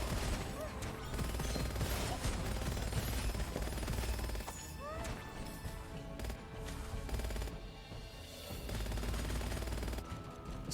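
Rapid primary-weapon fire in the shooter Gunfire Reborn, bursts of dense automatic shots fired into the air, steady and loud for most of the stretch, with brief lulls and a fresh burst near the end.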